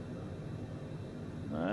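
Steady broadband roar of a Cessna Citation private jet engine at cruise in Microsoft Flight Simulator 2020, a constant whooshing hum that swells slightly at the end, with a voice over it.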